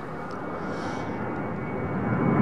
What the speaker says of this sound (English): There's the 757.